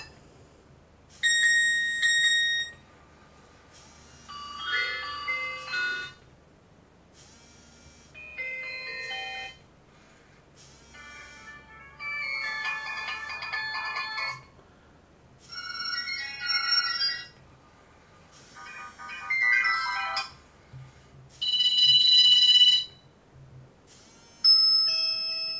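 A Nokia HMD handset cycles through a series of different ringtones, each a short electronic melody separated by brief silences, played close and clear with no speech.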